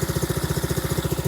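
A 1977 Honda CT70 minibike fitted with a Lifan 125cc engine runs steadily nearby, its single-cylinder exhaust pulsing in a fast, even throb with no voices.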